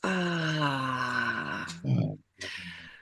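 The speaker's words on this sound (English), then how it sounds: "Let's exhale." A long, slow exhale after a held breath in a square breathing exercise, voiced like a soft moaning sigh, close and alone. It ends with a brief pause and a second breathy release.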